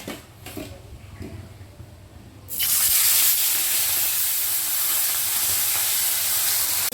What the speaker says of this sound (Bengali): তেলটা একটু গরম হতে দেব কিন্তু বেশ গরম হয়ে গেছে এবারে আমি মাছগুলো দিয়ে দেব